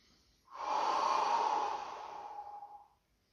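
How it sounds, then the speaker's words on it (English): Slow, deep breath during a yoga stretch, one long airy exhale lasting about two and a half seconds, close and soft, with no talking. "So take a couple more rounds of your breath here."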